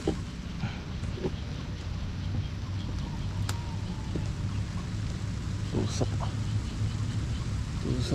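Heavy typhoon rain pours down steadily, a dense continuous roar with scattered sharp drops and knocks.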